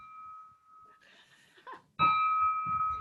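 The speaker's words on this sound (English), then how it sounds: "I'm gonna ring the bell" A bell rung to adjourn a service-club workshop, struck beside an original 1960s gavel: a sustained clear ring, then a second louder strike around the two-second mark that resonates under faint background noise.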